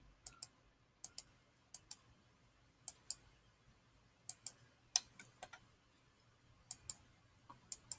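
A computer mouse clicks sharply in sharp, close pairs and singles during AutoCAD drafting work, with irregular gaps between the clicks and a quiet room hum behind them.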